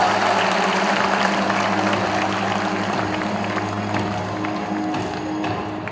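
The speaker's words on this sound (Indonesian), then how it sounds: "Sekali lagi, berikan aplaus juga yang besar" Audience applause at an Indonesian panel discussion, a dense, continuous wash of clapping from a crowd that holds steady for the whole stretch and fades slightly at the end.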